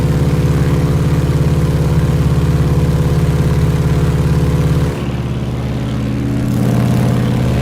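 A Stearman biplane's propeller engine in a flight simulator game drones loud and steady, then its pitch drops abruptly and it settles into a lower, rougher hum before rising again.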